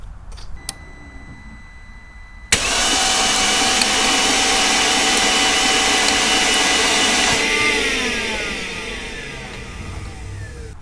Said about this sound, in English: now it's spinning freely by starter